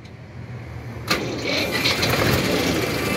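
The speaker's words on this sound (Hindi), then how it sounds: "पहले ही सेल्फ में स्टार्ट, और आवाज़ कितनी प्यारी है ट्रैक्टर की" A 1988 HMT 3511 three-cylinder tractor engine starts on the self-starter, a short cranking burst catching at once and settling into a loud, steady, close idle.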